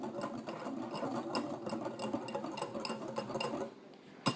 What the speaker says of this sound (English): you're going to want to whisk it. I use a small bowl